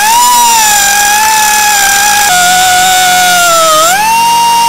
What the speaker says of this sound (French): l'astuce, c'est de prendre une petite meuleuse et de faire une fente pour pouvoir après ensuite mettre un tournevis plat